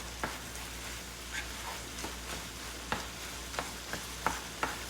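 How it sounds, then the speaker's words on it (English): Dirty rice with sausage stirred in a hot pan, a steady sizzle broken by sharp scraping taps of the spoon against the pan at irregular intervals, close by. "We're going to get everything stirred up."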